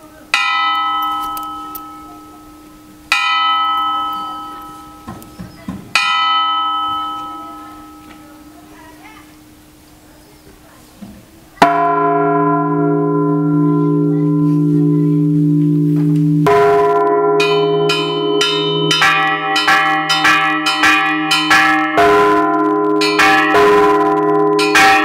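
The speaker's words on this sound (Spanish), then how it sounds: "Ahorita están sonando las campanas. Y ahí está marcando la hora" Church bells strike to mark twelve o'clock, first as a few separate loud, ringing strokes that fade, then as a dense sustained peal of several overlapping bells, close and resonant.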